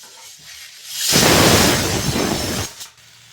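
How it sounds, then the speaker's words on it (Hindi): Hot tempering poured into buttermilk kadhi, a sudden loud close burst of sizzling that roars for about a second and a half, then cuts off. "छौंक दी मैंने कढ़ी"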